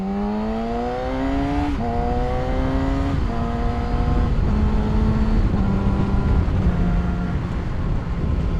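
A motorcycle engine revs in first gear on a hot day, its tone climbing in steady, rising pulls that are broken by brief dips, loud and close under heavy wind rush, with no talking.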